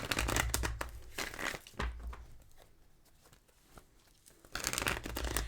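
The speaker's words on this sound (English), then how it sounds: "I'm going to shuffle that one more time." Tarot cards being shuffled by hand in bursts of crisp riffling and crinkling, loud at the start and again near the end with quieter rustling and shifting in between, close up and without talk.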